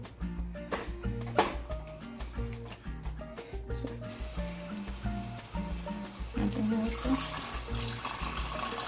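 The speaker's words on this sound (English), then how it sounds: "I'm adding water." Water pouring from a tap into a pot of pork stew with tomato sauce and pepper, a steady running splash with clattering kitchen sounds and a brief sizzle.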